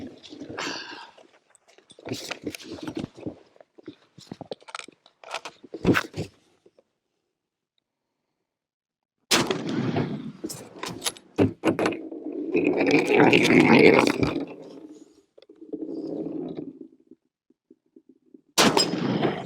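A Mauser Model 1871 rifle with an iron barrel fires several sharp, loud shots, each a sudden crack with a short ringing tail, spaced apart between stretches of talking.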